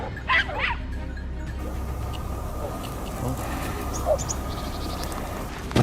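Hunting dogs chasing a wild boar give a few brief, distant yips and barks near the start, then fade under steady outdoor ambience for the rest of the stretch.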